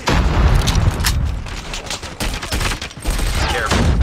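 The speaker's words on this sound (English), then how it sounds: "hostile sentry gun spotted." A hostile sentry gun fires in Call of Duty Mobile, with rapid, loud bursts of automatic gunfire and booming impacts in a dense, continuous barrage.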